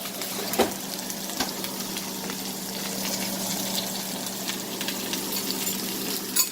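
Butter and crushed garlic sizzle in a pan beside a seasoned steak, giving a continuous moderate hiss with a couple of brief clicks near the start and the end and no one speaking.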